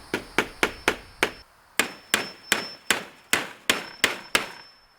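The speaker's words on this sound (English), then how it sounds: "watch your fingers so they don't get hit by the hammer" Steady hammer blows on wood and metal fasteners while converting a chicken tractor into a coop, about a dozen sharp, loud strikes in quick even runs with one short pause, close by and without talk.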